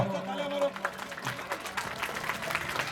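Audience at a school anniversary event in Mulbagal clapping as the MLA inaugurates the programme, a continuous patter of hands under a speaker's amplified voice over a PA.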